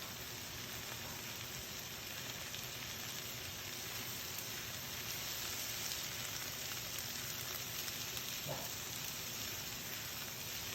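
Pork strips, scallions and celery sizzle steadily in a pan, a continuous close hiss and crackle with no break, and a brief clink partway through.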